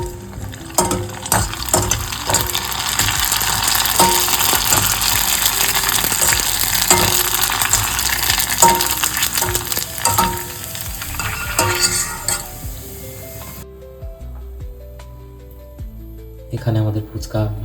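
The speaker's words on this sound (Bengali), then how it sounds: "ফুচকা বানানোর জন্য প্রথমে আমরা এগুলো সব ভেজে নেব" Fuchka puris fry in hot oil, a loud continuous crackling sizzle with stirring clatter that drops away near the end, leaving quieter scattered sounds.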